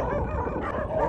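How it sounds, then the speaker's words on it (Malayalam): Dogs barking at night at the Saudi border customs post, a dense, continuous chorus of barks and yips with some whimpering, steady and fairly loud throughout. "ഭയങ്കര പട്ടിക്കൊരയാണല്ലോ"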